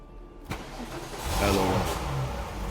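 A Porsche's engine catches with a sharp start, then swells into a steady rumbling run, heard up close with no voices.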